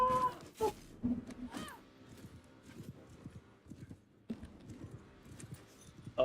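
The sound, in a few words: horse galloping in Mount & Blade II: Bannerlord video game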